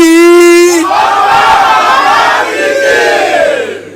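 At a Labour Party welcome rally, a loud crowd roars and shouts together after a single sustained yell, the cheering swelling and holding steady close by.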